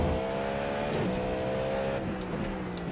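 Race car engine in a racing video game, a sustained buzzing engine tone that shifts pitch as the car changes speed, with a couple of brief gear-change dips, fairly loud and continuous.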